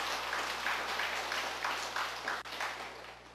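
An audience applauds a master at a religious teaching gathering, steady soft clapping spread across the room over a low constant hum, with no voices.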